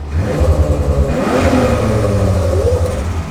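Close, loud revving of a roughly 500-horsepower 1JZ drift car engine with a sequential gearbox and anti-lag, the pitch rising and falling in steady bursts that crackle through the whole stretch.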